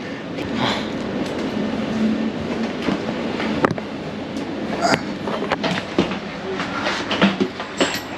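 A passenger train rolls along the rails between Salzburg and Prague, with a steady rumble and rhythmic clicks and knocks from the wheels heard from inside the carriage, and some faint voices nearby.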